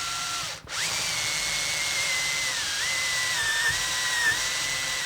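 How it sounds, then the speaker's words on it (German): A power drill with a step drill bit bores into the plastic dashboard of a Fiat Ducato, a loud steady whine that briefly stops, restarts, and shifts pitch upward in steps as the hole widens. "Und jetzt mit dem Stufenbohrer"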